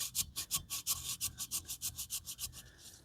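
Wet and dry paper is rubbed back and forth over a scratched BMW alloy wheel, making quick, even rasping strokes in a steady rhythm, close and clear with no talk.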